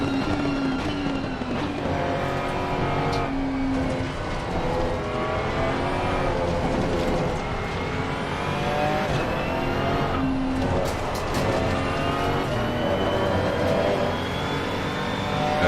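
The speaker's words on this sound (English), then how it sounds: "One thing I gotta get used to with the GT3 cars is that knocking, man, that sound of knocking." A GT3 race car in a sim racing game on a Baku street-circuit practice run: steady, loud engine drone that rises and falls with throttle and gear changes, heard alone without talk.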